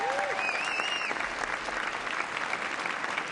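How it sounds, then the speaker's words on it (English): Loud, dense applause from the audience at a mayoral inauguration at The Met Philadelphia, steady throughout with cheers and whistles rising above it. "Give her a huge round of applause."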